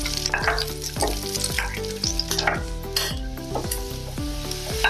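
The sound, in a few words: onion, garlic and ginger frying in pan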